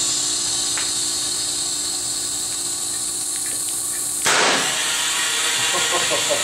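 A homemade supersonic ping pong ball cannon fires on a tabletop with one sharp, loud bang, preceded by a steady hiss and faint clicks, then a brief noisy burst that fades quickly.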